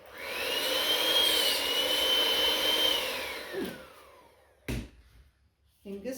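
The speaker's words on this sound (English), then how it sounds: "My whisk is making a funny noise." An electric whisk whines loudly and steadily with a strained, high-pitched tone that slides downward as it winds off, followed by a couple of brief knocks and quiet near the end.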